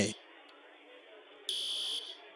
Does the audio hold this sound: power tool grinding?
no